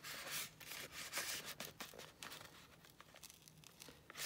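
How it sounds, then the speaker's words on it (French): A stuck paper tag is slowly peeled from a recycled artist trading card, giving a close, continuous papery rustling and tearing with crinkly bursts and no talk. "On va essayer de l'enlever, de le décoller plutôt."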